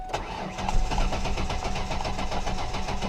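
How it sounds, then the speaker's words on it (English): A car engine with no fuel cranks without catching, giving a steady, rapid rhythmic churning of the starter that stays close and continuous throughout, with no speech. "let's go inside the car and crank it, see if it starts"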